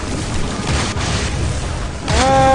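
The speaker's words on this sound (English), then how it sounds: "Explosions everywhere! Everywhere there are explosions!" Explosions in the action game Shank make a loud, dense, continuous roar of blasts and rumble. Near the end, a brief voiced sound cuts in.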